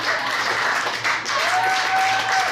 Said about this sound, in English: That applause was what we in the business call pity applause.